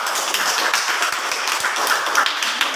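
A classroom audience claps for a student group during a chemistry lesson, a short burst of dense, even applause from many hands, fairly close and steady throughout with no voices over it.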